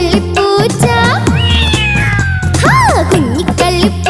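A cartoon cat in a Malayalam children's story meows repeatedly in loud, sliding, sing-song cries over a busy musical backing, several meows following one another closely.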